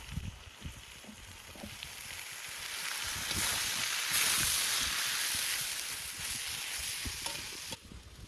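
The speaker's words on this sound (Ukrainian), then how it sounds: "Цибулька наша чуть піджарилася." Onions fry in a kazan on a stove with a soft, steady sizzle that swells toward the middle. Faint stirring knocks sound underneath, and the frying stays fairly quiet and close throughout.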